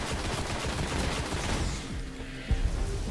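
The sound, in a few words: gunfire in the video game Destiny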